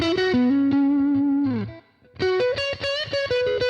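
A distorted electric guitar through a Mooer Radar cab simulator, mic placed at the cone's edge, plays a held note with a bend, a brief pause, then a quick run of chorused, effect-laden notes.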